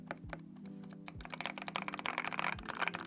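Typing on a Skyloong GK68s wooden-case keyboard fitted with Gateron Oil King switches: a steady run of soft, deep, close keystrokes with no talking.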